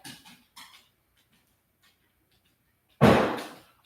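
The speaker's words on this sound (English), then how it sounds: "Sorry, I'm playing with the dog." A ridgeback dog at play gives a few faint, short whimpers near the start. After a quiet gap, a loud, close thump follows.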